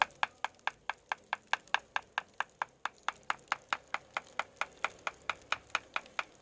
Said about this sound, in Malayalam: നമ്മൾ സ്ക്രൂ ഡ്രൈവർ വെച്ച് തട്ടുമ്പോൾ